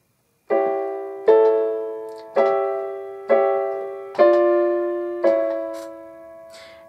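Opening bar of a theme on piano: six chords struck one by one at a slow, even pace, each clear and close, sustaining and fading before the next, with no voice present.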